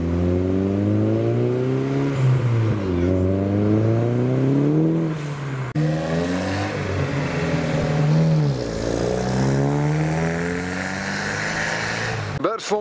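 A classic Corsa Sprint pulls away from a car meet, its engine loud and close, revving repeatedly through rising and falling gear changes with a steady whir until it cuts off near the end.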